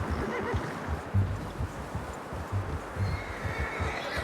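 A horse neighs in a Western video game, a whinny rising over steady ambient rumble with a few low hoof-like thuds, fairly close and not under any talk.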